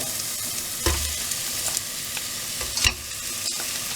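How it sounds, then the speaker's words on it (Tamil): Ginger garlic paste sautéing in a pan before crab masala goes in, a continuous close sizzle broken by a few stirring scrapes and dull knocks of the spoon against the pan. "இஞ்சி பூண்டு பேஸ்ட் நல்லா வதங்கி வாசம் வந்துக்கிட்டு இருக்கு"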